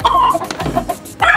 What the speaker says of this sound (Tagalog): Special na manok ko yan.